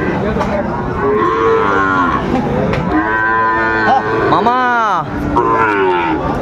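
Sahiwal bull calves moo loudly and close by at a cattle market in Dinajpur, with several long, drawn-out calls overlapping and following one another over a constant murmur of the crowd.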